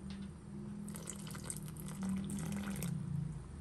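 Fish sauce (patis) is poured into a crab stew cooked with coconut milk and malunggay, giving a steady liquid trickle with a brighter splashy stretch in the middle.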